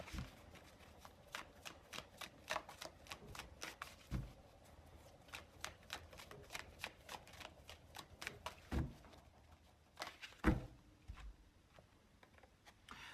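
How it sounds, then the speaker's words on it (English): Tarot cards are shuffled and drawn by hand, giving a close, quiet run of rapid papery flicks and snaps with a few sharper card taps and brief pauses. "So I'm just going to take one more card here."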